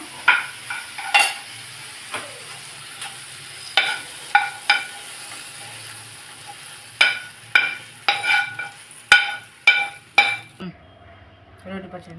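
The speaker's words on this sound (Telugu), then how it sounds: "వేగిపోయిందండి టమాటా తీసుకున్నాం" Tomatoes fry in a pan for a tomato egg curry, with a faint sizzle under repeated clinks and scrapes of a utensil stirring against the metal, coming in close, uneven bursts.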